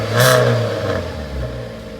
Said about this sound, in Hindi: आप जो हल्की सी आवाज़ सुन रहे हो ये Hyundai i20 का जो इलाइट वाला वेरिएंट है